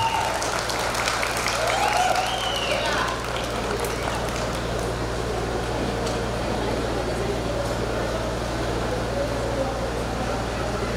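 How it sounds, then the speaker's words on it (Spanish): An audience applauds at a quinceañera celebration, a steady wash of clapping that holds evenly throughout, with a low hum running beneath it. "amable público, un aplauso para motivar a la quinceañera y a su mamá"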